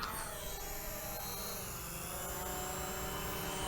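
A Tomzon D65 foldable GPS drone hovers and flies with a steady, loud, high-pitched propeller whine that holds without a break.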